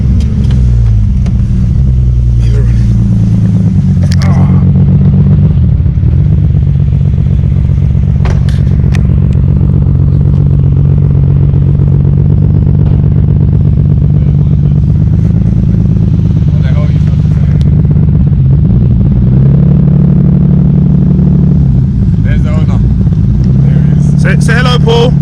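Alfa Romeo 145 fitted with a 3.0 V6 engine, heard loud and close as a steady deep drone that swells into rising revs several times, with brief clatter at intervals.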